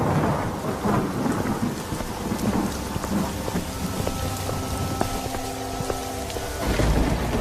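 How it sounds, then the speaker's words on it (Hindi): Heavy rain pours down in cold weather with rumbling thunder, a dense steady downpour hissing on surfaces close by, with a deeper rumble swelling near the end and no voices. "तभी जोर जोर से बारिश शुरू हो जाती है"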